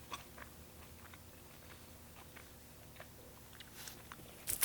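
Someone chews a crunchy Crisp Kringle chocolate bar close to the mic, with a few faint bites and soft crunches at an irregular rhythm over a quiet room hiss and a louder crunch at the very end.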